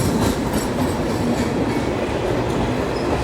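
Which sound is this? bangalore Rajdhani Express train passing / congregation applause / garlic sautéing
bangalore Rajdhani Express train passing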